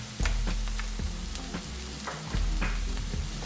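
Onions, garlic and green chilies sautéing in a hot pan for Sindhi lamb give a steady, loud sizzle broken by several scraping stirs, with no voices.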